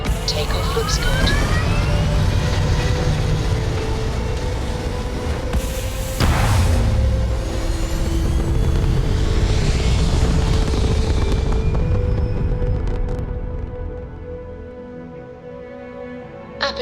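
A spaceship lifts off in the video game Starfield with a loud, sustained engine roar and rising whines, which fade and thin out toward the end.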